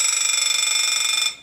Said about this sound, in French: il y a besoin d'un réveil